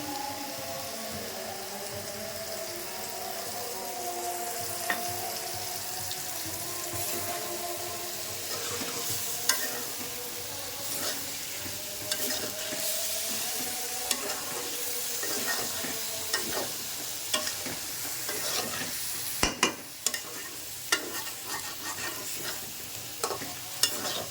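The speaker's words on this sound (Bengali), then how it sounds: "এখন একটু ভাজা ভাজা করতে হবে।" Small fish with tomato fry in oil in a wok, with a continuous sizzle broken by frequent scraping stirs and sharp clicks of a utensil against the pan, up close and without voices.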